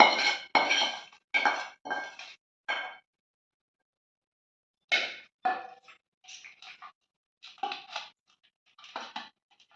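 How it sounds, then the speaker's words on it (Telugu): A spoon clinks and scrapes against a metal vessel in short bursts while tempering is stirred into rice for lemon rice, with quiet gaps between the clatter. "రెడీ అయిన పోపుని అన్నంలోకి మిక్స్ చేసుకుందాం"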